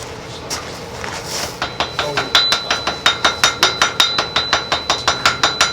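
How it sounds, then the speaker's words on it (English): The flat face of a hand hammer forges a Damascus steel billet, striking in a steady run of about twenty sharp, ringing blows that grow louder and keep an even rhythm. "if you have a rounded hammer, I'm going to use the flat side of the hammer."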